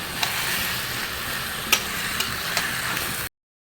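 Chicken for biryani stir-fried in a pan over a high gas flame, a constant sizzle with a few sharp scraping strokes of the spatula, close by, no voices, ending abruptly in silence.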